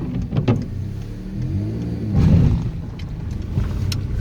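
A car in first gear pulls away on a Romanian country road, its engine note rising and falling close by. A brief louder swell comes midway, with no speech.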